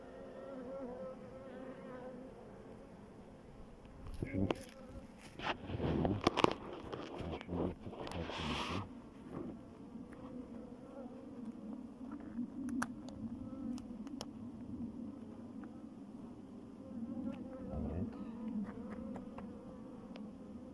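Honey bees hum at a Carniolan bee hive in a continuous buzzing drone, with a few louder passes as bees fly close to the microphone and no talk.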